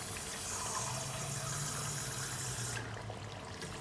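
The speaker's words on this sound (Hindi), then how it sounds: "अब मैं इसके अंदर इस पॉइंट पर पानी शामिल कर दूँगी" Water poured from a glass into a cooking pot of arvi gosht, a steady, fairly quiet rushing splash that runs continuously for a few seconds and eases slightly near the end, with no talking.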